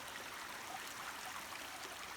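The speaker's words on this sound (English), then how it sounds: "And hearing the water trickle" Stream water trickles steadily along a nature trail, a faint, continuous hiss of flowing water with no voices.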